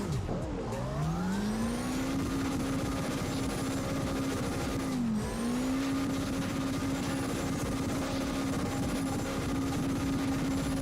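A car engine in the drift racing game CarX Drift Racing Online revs up from low to a sustained, loud, droning pitch, dips once around the middle, then climbs back and holds, continuous and close.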